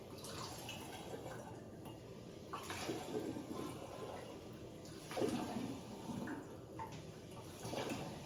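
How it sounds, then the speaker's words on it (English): A one-litre drink container being rinsed out while an electrolyte drink is made, with soft running water and small splashes over a quiet steady hiss, close but faint with no talk. "I'm just rinsing out the container as I go here."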